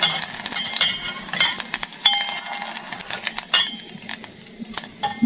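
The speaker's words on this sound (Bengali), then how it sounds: "মাছ ভাজা নিতেছে" Tengra and koi fish fry in a little oil, crackling and sizzling close up while a utensil stirs and clinks against the pan in uneven bursts.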